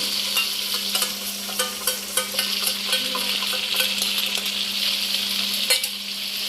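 Ground cumin, coriander, dried chili and turmeric powders hit hot oil in a pan, sizzling steadily while a spoon scrapes and stirs in quick irregular clicks close by, with no voices.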